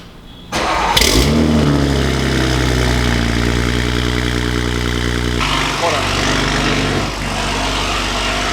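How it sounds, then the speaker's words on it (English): A BMW Gen 3 B58 engine fitted with a downpipe cold-starts with a sharp crank and loud flare, then settles into a steady, droning high idle close to the microphone. "So first cold start right here, Gen 3 with the full setup."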